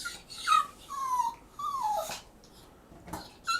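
A dog at a groomer's whimpers excitedly in a string of high, drawn-out whines and yips that fall in pitch, fairly close, with quiet shuffling between them.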